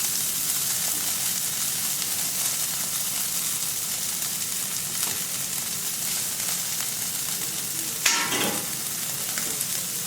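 Vegetables frying on a Camp Chef FTG600 flat top grill outdoors, a constant bright sizzle with occasional scraping and stirring clicks, close and steady, with one louder spatula scrape near the end.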